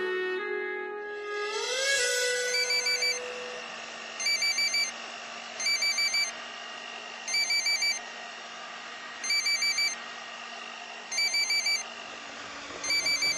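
A telephone rings while a call is being placed: after a brief rising tone, a loud electronic ringtone repeats in evenly spaced bursts, about six times, over a low steady hum, with no talking.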